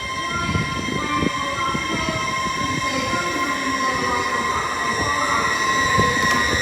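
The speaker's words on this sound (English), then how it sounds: "Next out, the 1331 Hull Trains Paragons service from London King's Cross to Hull." A Hull Trains service runs through Doncaster station, giving a steady rumbling roll with faint wheel squeal and a sustained high whine, without any break or speech.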